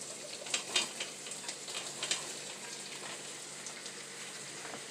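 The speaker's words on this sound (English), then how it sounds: "now I will throw in my mushrooms" Bella mushrooms hit a hot pan and sizzle steadily, a bright, even crackle with scattered louder pops in the first seconds and no talking.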